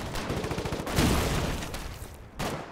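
Rapid gunfire in the video game Foxhole: a fast machine-gun burst of evenly spaced shots, then a heavier blast, a sustained roar, and another sharp shot near the end, all at moderate level.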